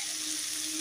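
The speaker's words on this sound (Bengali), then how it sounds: "আলু ভাজা হচ্ছে" Potatoes frying in a pan give a steady, close hiss of sizzling oil that holds evenly throughout, with no talking.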